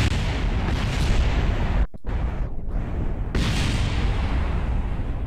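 A rocket blowing apart in Kerbal Space Program, loud rumbling booms and crackling blasts rolling continuously with a couple of brief cut-outs, close and dense.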